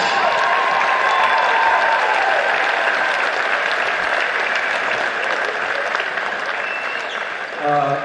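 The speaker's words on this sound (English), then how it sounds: "Ladies and gentlemen, please put your hands together for the 2019 AA Boys Schick Champions, St. Kentigern's College." Crowd at a 'AA' Boys basketball final applauds the 2019 champions, St. Kentigern's College, with loud sustained clapping and cheering that holds steady before easing near the end.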